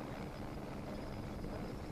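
A helicopter flies over a rally stage, its rotor and engine giving a steady broadband drone that stays level throughout, with no talk.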